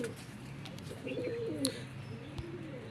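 Golden pigeons of a single breed being flown, with soft cooing and a few light chirps at fairly close range over quiet background hum, plus a couple of brief wing or handling taps.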